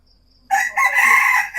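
A person mimics a rooster's crow with a loud, drawn-out cock-a-doodle-doo call after a brief quiet moment, the voice rising and holding to the end.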